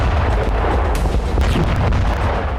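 Artillery fire in war footage from the Russia-Ukraine conflict sounds as loud, dense booming blasts, with sharp bursts layered over a continuous heavy rumble.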